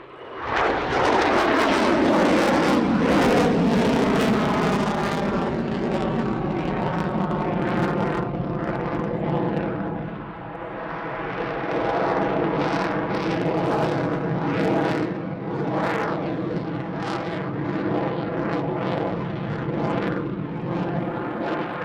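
A Hornet fighter jet roars through an airshow display, a loud sustained engine rumble that swells early, dips briefly midway, then surges again with pulsing fluctuations as it manoeuvres, heard distant to moderately near.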